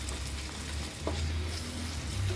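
Pureed tomato fries in butter with onion and chilli for a paneer dish, a soft, continuous sizzle and crackle heard up close with no talking.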